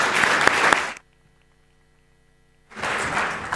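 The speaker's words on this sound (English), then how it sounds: "Let's give John a warm round of applause." An audience at a presentation claps loudly for about a second, then stops, then a fresh burst of applause starts up again near the end.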